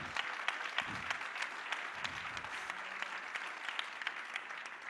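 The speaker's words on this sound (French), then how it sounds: "Merci de l'applaudir." A congress audience at a political gathering on gender equality applauds steadily and at a distance, the crowd clapping evenly and alone throughout.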